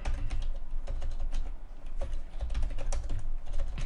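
Steady, rapid typing on a computer keyboard as a project title is entered into a new survey form, dense key clicks running continuously and close, with no talking.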